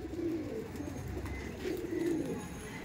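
Madrasi pigeons, quality show birds, coo softly and steadily in a loft, with two fuller bursts of cooing rising above a low constant background hum.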